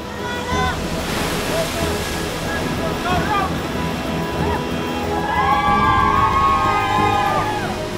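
Ocean surf breaks against a rock where six people battle through the water, a loud continuous roar of waves with voices shouting and calling over it.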